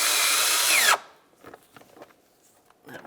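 A power tool whirs loud and close for about a second, snugging wheel well bolts on a 2011-2018 Volkswagen Jetta, then cuts off abruptly, leaving faint metallic clinks and handling noises.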